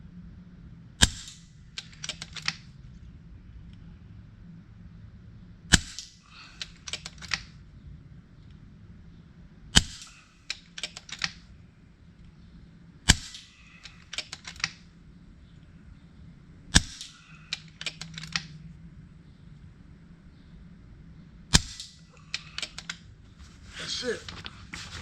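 An FX Impact M3 air rifle with a stainless steel barrel liner fires about six sharp, loud shots at a bottle cap, evenly spaced several seconds apart, each followed by faint clicking of cocking or handling over a quiet background.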